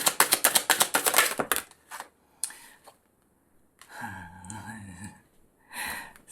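Tarot cards are shuffled in a quick riffling burst of crisp, rapid flicks close up, followed by quieter handling and a voice speaking softly.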